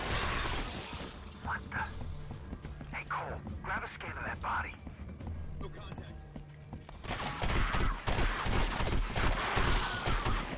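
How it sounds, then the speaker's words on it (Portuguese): Gunfire bursts and a sharp grenade blast with crashing debris in the shooter game Area 51, loud and close, while someone talks over the combat. "Deixa eu tacar a granada."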